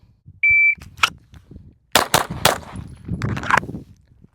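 A Glock 19X pistol fires at a shooting range after a shot-timer beep. Several sharp, loud, close shots come in a quick string, with a brief pause in the middle and no talking.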